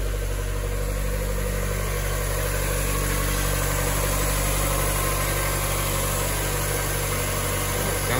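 A car engine idles steadily in a Miata-based endurance race build project, a continuous low rumble with even vibration throughout, close and fairly loud with no talking.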